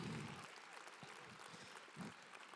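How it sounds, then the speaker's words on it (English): Faint applause from a charity auction crowd rises and settles over a few seconds, thin and distant, with a low voice briefly audible at the start. "Give yourselves a round of applause"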